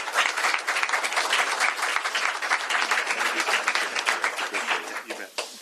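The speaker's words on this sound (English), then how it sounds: "to give him a round of applause as I sign this into law" A crowd claps warmly at a governor's bill signing ceremony, sustained applause for several seconds that thins out at the very end.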